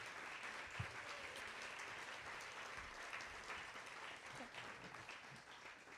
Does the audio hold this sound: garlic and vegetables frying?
no